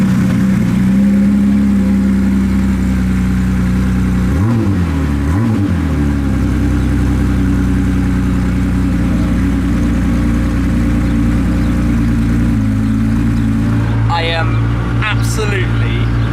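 Ferrari supercar engine starts with a rising rev sweep, then settles into a steady, loud idle rumble close by, with a couple of brief blips near the end.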